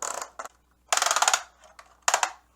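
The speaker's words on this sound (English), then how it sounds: "Ratcheted thigh swivel." The ratcheting thigh swivel joint of a Transformers Kingdom Titan Class Autobot Ark action figure gives close plastic clicking bursts, three main runs of rapid ratchet clicks separated by brief quiet gaps.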